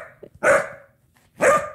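A Basset Hound gives two loud, close barks about a second apart, each one sharp and full, with quiet between them and no one speaking.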